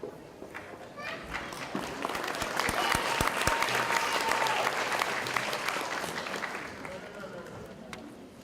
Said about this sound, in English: Let's give another round of applause for the graduates of the Department of Educational Psychology.